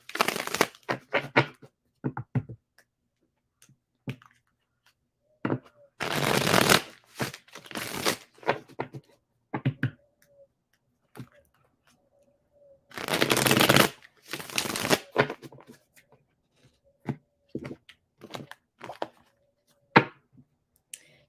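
Tarot cards being shuffled by hand in repeated bursts of riffling and flicking, close and quiet, separated by soft pauses and light handling clicks.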